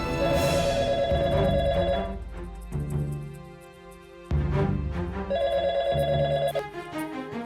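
A telephone bell rings indoors in repeated bursts, a bright electronic trill that pauses briefly before ringing again, loud and close with no talk over it.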